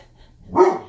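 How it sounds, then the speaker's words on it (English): Guard dogs on a farm, a single short bark rising out of near silence, fairly close and moderately loud. "Yeah, guard dogs."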